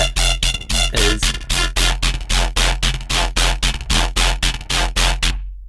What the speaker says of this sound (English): I think we've still got too much distortion